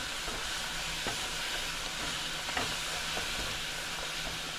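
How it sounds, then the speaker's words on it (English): Caramel cake topping of butter and heavy cream stirred in a pan as it melts, a steady low sizzle throughout with occasional soft scrapes of the spoon against the pan. "you're going to continue to stir it to melt that down"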